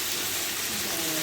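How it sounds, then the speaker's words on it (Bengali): Food frying in a pan at home gives a brief, steady, dense sizzling hiss, close and continuous with no distinct clatter. "এটা ভাজা হচ্ছে"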